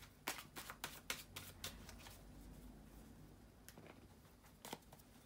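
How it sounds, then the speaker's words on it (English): Tarot cards being shuffled by hand, a run of crisp riffling bursts and flicks in quick succession, then a pause and a few more snaps later, close and fairly quiet with no talking. "shuffle the tarot cards"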